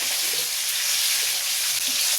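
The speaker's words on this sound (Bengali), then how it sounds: "কালো জিরে ফোড়ন দিয়ে দিলাম" Black cumin seeds tempering in hot mustard-style oil in a kadai for a Bengali fish curry, giving a steady, close, broadband sizzle and crackle with no talk.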